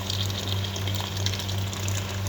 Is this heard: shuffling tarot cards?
no